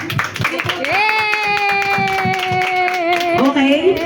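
People at a 7th birthday party clap in a quick, even rhythm while a voice holds a long, drawn-out call over the claps.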